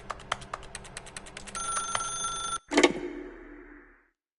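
An old-fashioned telephone bell rings in rapid repeated bursts inside The Stanley Parable video game, ending with a clunk as the receiver is picked up and a short fading echo.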